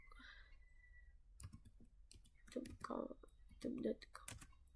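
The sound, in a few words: typing on a computer keyboard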